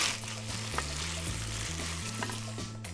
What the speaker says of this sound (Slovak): Pridáme nakrájané sherry paradajky.